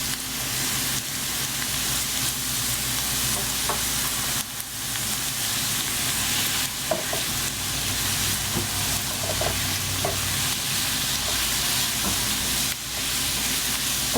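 Ginger and garlic sizzle and fry steadily in a hot pan on high flame for shrimp curry, a dense continuous crackle with occasional stirring clinks, close and fairly loud.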